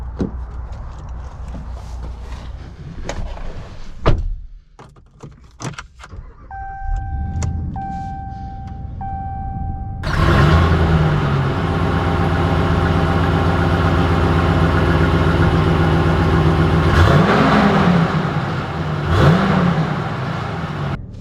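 A 2020 Ram 1500 Warlock V6 pickup truck, loud and close: brief clicks and a whirring power window first, then the engine starts and settles into a steady drone with two rising revs as it pulls away.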